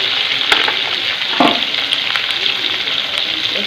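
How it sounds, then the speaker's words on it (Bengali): Salted potatoes fry in oil in a wok, giving a steady, close sizzle broken by a few stirring clicks and scrapes. "নুন দিয়ে আলুটা ভাজা হচ্ছে।"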